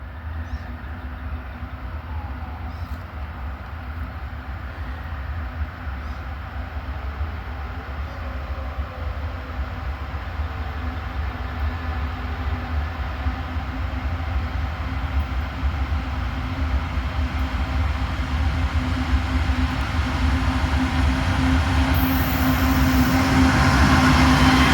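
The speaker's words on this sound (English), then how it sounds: "Coal train. fully loaded coal train." A fully loaded coal train rolls past near the tracks in Abbeville, a continuous low rumble with steady wheel noise that grows louder toward the end, with no voices.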